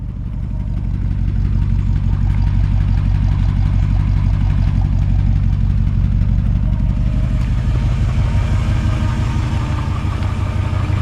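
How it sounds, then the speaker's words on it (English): A 1955 Chevrolet Bel Air V8 with solid lifters and its original muffler idles close by, a loud, deep and steady burble with a faint ticking rhythm throughout, alone with no voices. "these older 50s V8s sound just awesome"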